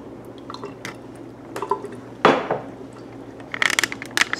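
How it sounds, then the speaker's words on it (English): Oil is poured into a sink, giving close drips and a short liquid splash, then a few small clinks. "So as I take the oil and spill it in the sink"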